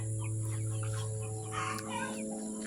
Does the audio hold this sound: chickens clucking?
yes